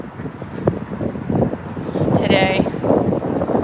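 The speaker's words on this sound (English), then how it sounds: "It is super windy, so you may want to turn off the audio" Strong wind buffets a microphone on a street corner in the historic Mount Vernon district of Baltimore, a loud, rumbling roar that builds and gusts steadily, with a brief spoken word partly buried beneath it.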